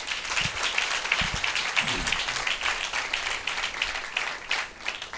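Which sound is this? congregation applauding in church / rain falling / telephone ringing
congregation applauding in church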